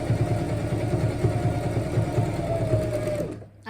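A sewing machine runs a straight stitch corner to corner across a rag quilt, whirring steadily with a fast even chatter for over three seconds before it stops abruptly.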